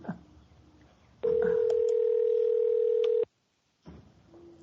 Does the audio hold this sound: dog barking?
no